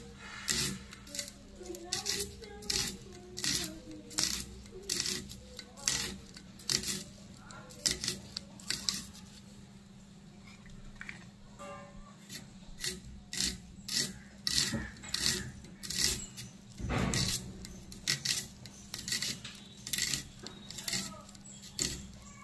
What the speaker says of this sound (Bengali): দেখো বন্ধুরা পেঁয়াজগুলো কেটে নিচ্ছি।